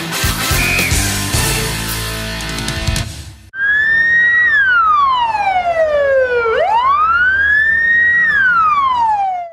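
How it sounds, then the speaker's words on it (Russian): Ambulance sirens wail along a city street as a column of ambulances drives past; a loud rising and falling siren sweep dominates after a burst of busy street noise. "Вой сирены на улице Полевая заставил оглянуться всех прохожих. По дороге одна за другой проехали 8 машин скорой помощи"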